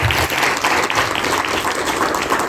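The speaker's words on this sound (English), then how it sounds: "A round of applause to all of you for doing such a fantastic job." Students and audience at a school cultural event clap together in a brief, dense burst of applause, loud and sustained with a roomy, slightly muffled character, no speech over it.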